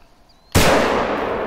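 A gunshot fired at a moose outside a tent: after a quiet moment, one sudden loud blast hits and then rings out in a long, slowly fading echo.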